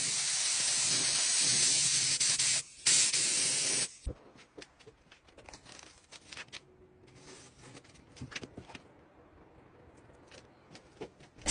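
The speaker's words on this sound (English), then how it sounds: "Spray paint is hard to regulate. I like to use a sprayer instead." A paint sprayer sprays paint onto wood in a steady, close hiss for about four seconds, followed by scattered faint taps and handling noises.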